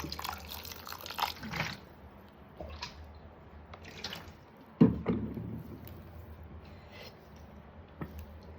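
Water is poured into a bowl of fermented rice porridge with chillies and onion pieces, heard as soft splashes and scattered drips at close range with no talk.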